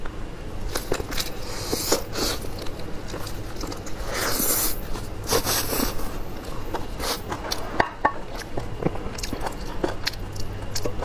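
Smoked fish and cabbage with glass noodles being eaten close to the mic in an ASMR mukbang, with repeated wet chewing and biting clicks in an irregular rhythm, no talk.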